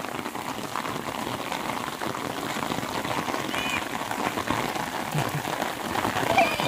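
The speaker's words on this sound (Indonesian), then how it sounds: "Alhamdulillah akhirnya hujan." Steady rain pattering on a surface in a village after a drought season, a dense continuous hiss of drops that holds at an even level throughout.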